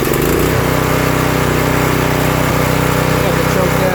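The small gas engine of an Earthquake Victory garden tiller runs at full throttle and full speed with the choke on, giving a loud, steady, close buzzing drone that holds without a break.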